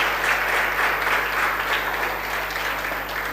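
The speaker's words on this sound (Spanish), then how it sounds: "Y denle el aplauso fuerte a Jesús" A church congregation applauds loudly during a Sunday service, a dense, steady roar of clapping that holds at full strength from start to finish.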